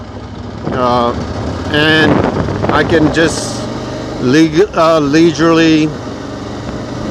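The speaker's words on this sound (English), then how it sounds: "the engine is just the best part of this bike, is this engine" A KTM 1290 Super Adventure motorcycle engine runs at a steady low rumble on a former dirt road on a ranch, heard beneath someone talking through most of the passage.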